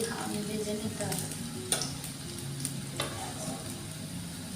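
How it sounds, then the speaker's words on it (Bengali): Small pakoras frying in oil over low heat, a continuous close sizzle and bubble with a few sharp clicks of a utensil against the pan, and quiet talk faint beneath. "একটু একটু করে তেলে দিয়ে একদম হালকা কম আঁচের মধ্যে এগুলো ভেজে নিতে হবে।"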